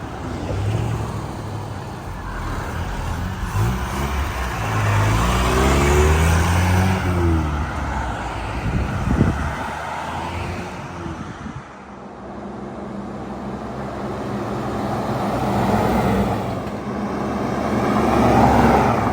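A 1974 Land Rover 88 Series III Lightweight drives past on a road in repeated flybys, its engine note rising and falling as it approaches, passes close and fades, with steady road noise throughout and no talking.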